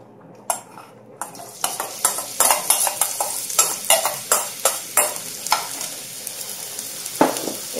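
Onions frying in oil in a pan, a soft continuous sizzle broken by repeated close scraping stirs and clinks of a utensil against the pan.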